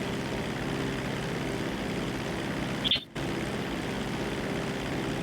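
A police helicopter flying in a GTA roleplay game, its engine and rotor drone a steady, even roar that cuts out briefly partway through before resuming at the same level.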